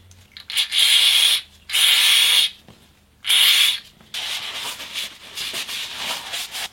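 Abrasive rubbing on an oil filter cap's gasket seat as old seal residue is scraped and cleaned off a Rodius at 180,000 km; three loud separate bursts of scrubbing, then a steadier, softer stretch of scraping, with no voices.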